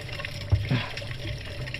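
Water pours steadily into a container from an outdoor source in a mountain setting, a continuous close splashing rush with a slight rise in gurgle as it fills.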